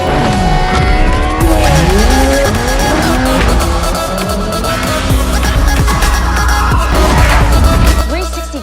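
Toyota GR Corolla drifting nearby: loud engine revving with sustained, warbling tire squeal across the whole stretch, plus some talk in the background.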